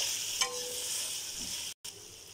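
Chopped potatoes and carrots stirred and fried in a pan, a steady broadband sizzle with a brief utensil scrape near the start and a short dropout near the end, no voices.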